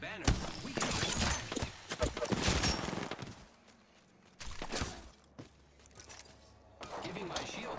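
Bursts of rapid gunfire from Apex Legends gameplay, loud dense volleys in the first few seconds, then sporadic shots later amid game sounds, with a voice talking over parts.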